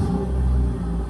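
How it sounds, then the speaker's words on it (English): A car engine sound effect is played during a comedy hypnosis stage show, heard as a brief, loud, steady low engine rumble with no voices over it. "Go put the key in and start it up."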